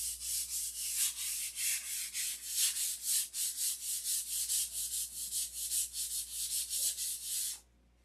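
Wood sanded by hand with steady back-and-forth strokes, a rhythmic hissing rasp repeating about three times a second for several seconds before it stops abruptly; fairly quiet and close.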